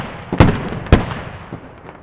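Two sharp gunshot-like bangs about half a second apart in the video game Squad, loud against a steady noisy background, followed by fainter distant pops.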